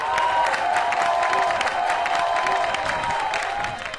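A stadium crowd cheers and applauds an exhausted runner, a dense, loud wash of clapping and shouting that holds steady throughout with no clear pauses.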